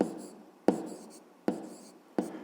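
Pen or pencil writing out the answer to a fifth-grade maths problem, four sharp strokes roughly every 0.7 seconds, each tapping down and trailing off into soft scratching, close and quiet with no talk.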